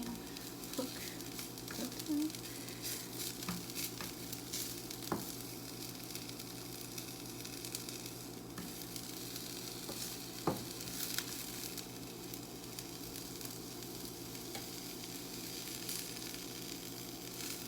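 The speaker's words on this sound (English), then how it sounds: "This is still sauteing" Continuous soft sizzling of food sauteing in a pan, with occasional stirring clicks and scrapes, heard close and steady without talking.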